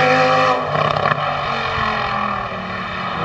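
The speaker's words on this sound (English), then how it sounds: "My God, that car sounds good." A powerful car engine roars past loudly at Goodwood, its note dropping and fading as it moves away into a lingering rumble.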